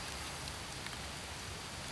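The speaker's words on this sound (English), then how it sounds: "it's raining pretty good" Steady rain falling outdoors around a ground blind during a Michigan deer hunt, a dense continuous hiss with no pauses.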